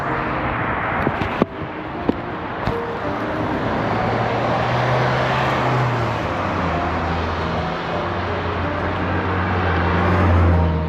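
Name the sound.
road traffic noise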